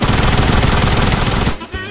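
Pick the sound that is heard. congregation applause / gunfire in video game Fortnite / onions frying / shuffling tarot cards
gunfire in video game Fortnite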